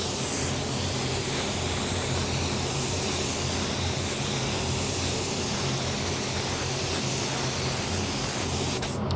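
A spray gun lays down a second coat of Createx AutoBorne Sealer, a continuous loud airy hiss held steady for about nine seconds.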